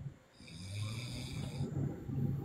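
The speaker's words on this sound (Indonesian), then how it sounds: "Kores lagi ngorok di sini." A person snoring nearby in a quiet room, with low rasping breaths repeating in a steady rhythm over a soft background hiss.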